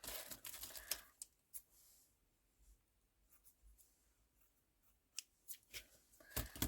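Scissors snip through a piece of tulle during a vintage-themed craft session, giving a few quiet, separate crisp cuts with soft rustling of the fabric between them, close and faint.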